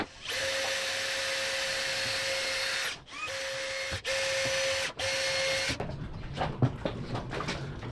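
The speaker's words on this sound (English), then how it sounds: "I just need to pre-drill those little pilot holes" A drill pre-drills small pilot holes for screws while mounting a mast light on a catamaran under rebuild: one long, close, high whine, then three shorter bursts, followed by light handling clatter.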